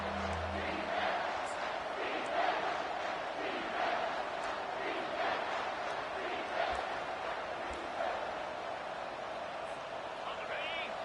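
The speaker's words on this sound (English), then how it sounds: "This crowd rising up, sensing that its defense needs some help." Football stadium crowd at an LSU vs Utah game, a broad roar swelling on third and short, steady and distant beneath a commentator's voice.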